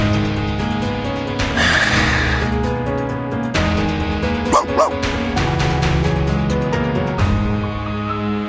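Dog barks and yips from the game Reverse 1999, a couple of short bright bursts midway over a steady, loud musical score with layered tones.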